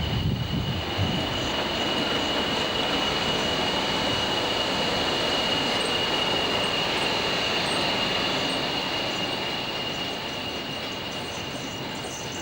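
A Class 40 diesel locomotive, number 40029, rumbles past heading toward Guide Bridge, its broad, steady engine roar loud and sustained throughout and easing slightly toward the end.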